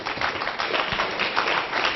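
A conference audience at a UFO event applauds, steady dense clapping from a crowd in a hall that carries on evenly throughout without talk.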